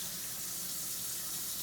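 Water poured into a pan of tomato paste sauce, a soft, steady hissing trickle with faint sizzling, heard close and alone.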